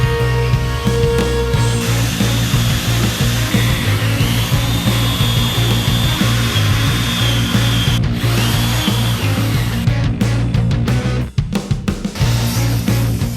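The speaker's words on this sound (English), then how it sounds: "drilling the holes for the bolts through the 2x4 and into the box." A power drill whines loudly and steadily, its pitch shifting as it bores bolt holes through a 2x4 into a wooden box, ending with a few short bursts and clunks.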